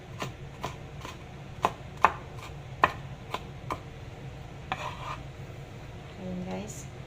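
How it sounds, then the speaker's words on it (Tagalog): A knife chops pork on a cutting board while menudo is being prepared, sharp irregular knocks close by, some louder than others, over faint kitchen background noise. "Bago susunod natin yung gayatin yung ating pork"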